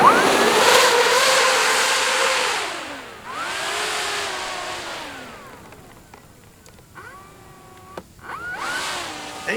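An E-flite Pilatus PC-21 electric RC model plane, 1.3 m span, taxiing on the ground: a loud whining motor that rises and falls in pitch through several throttle swells, fading briefly before spooling up again near the end.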